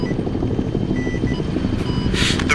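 A military helicopter sets down on a landing pad in a multiplayer combat game, its rotor chopping in a steady, loud, throbbing drone that carries on without a break, with a brief hiss of wash near the end.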